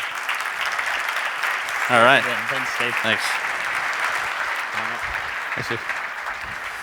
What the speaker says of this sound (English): So let's give him an applause.